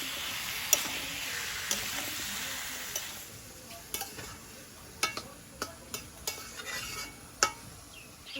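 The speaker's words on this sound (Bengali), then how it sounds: "চিকেনটা দিয়ে দেবো, ভালোভাবে মিশিয়ে নেব।" Chicken and potatoes with papaya are stirred in a hot pan: a steady sizzle of frying with a series of sharp spoon scrapes and knocks against the pan, each click clear and close, with no talk.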